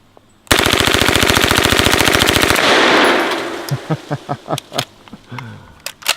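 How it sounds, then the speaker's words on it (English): An MP5 submachine gun fires one loud, rapid burst of about two seconds at a garbage can lid outdoors. After it comes a decaying echo and a scatter of sharp metallic clinks and taps. "I think I'll shoot that garbage can lid."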